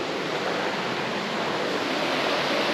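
Water rushing continuously at a major wilderness river crossing, a dense, loud, even hiss with no pauses or voices.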